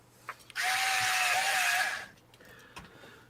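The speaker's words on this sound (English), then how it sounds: "I'm hearing drills. Yeah, there's drillage." A power drill whirs for about a second and a half in one loud continuous burst, its pitch wavering slightly, set against a quiet background with faint clicks before and after.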